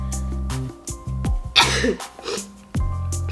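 A single sharp sneeze bursts out in the middle, loud and close, with quieter breathy sounds before and after.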